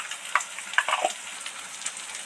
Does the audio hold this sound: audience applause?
no